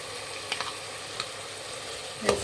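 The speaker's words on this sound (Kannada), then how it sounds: "ಒಂದು ಸ್ವಲ್ಪ ಟೊಮೆಟೊ ಮೆತ್ತಗಾಗಲಿ ಅಲ್ಲಿವರೆಗೂ ಫ್ರೈ ಮಾಡಿ" Tomatoes and peas frying in a pan, a faint, even sizzle with a few soft spoon taps and one sharper clink near the end.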